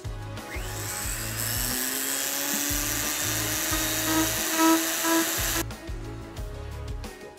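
A Dremel rotary tool engraving metal whines at a steady high pitch, close and loud, holding nearly constant before cutting off abruptly, leaving only faint residual noise.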